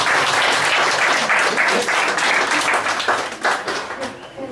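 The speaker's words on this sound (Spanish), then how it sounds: "Démosle un aplauso al Señor." Congregation at a Spanish-language church service breaks into sustained applause, a dense wash of many hands clapping that stays loud throughout and swells briefly near the end.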